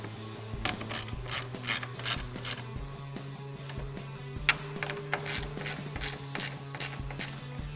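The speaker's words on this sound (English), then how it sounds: "I'm going to tighten them with my 8mm socket on my 1/4" drive ratchet" Quarter-inch drive ratchet with an 8mm socket snugging nuts on rear window louvers for a 2011-2022 Dodge Charger, giving rapid, close metallic clicking in repeated bursts with brief pauses between strokes.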